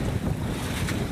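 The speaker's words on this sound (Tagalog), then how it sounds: "Sobrang lakas ang hangin." Strong wind roars close to the microphone, a heavy continuous rushing with low buffeting rumble and no voices.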